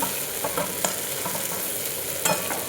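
Masala with ground cumin and coriander sautés in a pan, giving a continuous dense sizzle with occasional soft scraping strokes of a spoon close by.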